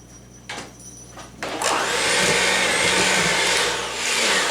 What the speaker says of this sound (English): since I'm using a handheld mixer